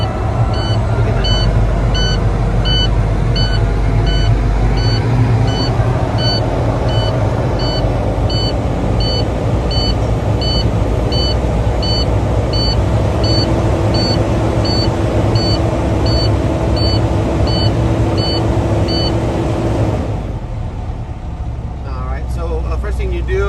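A Volvo truck engine with glow plugs idles with a steady low rumble while rapid dashboard beeps repeat evenly for about twenty seconds, then stop, leaving the engine running alone.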